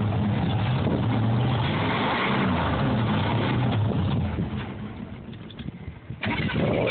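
A vehicle engine runs at a steady rumbling idle on a cold start, then fades and sputters unevenly as it stalls, with a short burst of sound just before the end.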